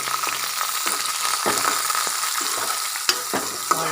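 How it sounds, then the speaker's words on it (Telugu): Onions frying in a pan, a steady loud close sizzle with repeated scraping strokes of a spatula and a couple of sharp taps, no talking. "ఆనియన్స్ వేసి బాగా రోస్ట్గా ఫ్రై చేయాలి"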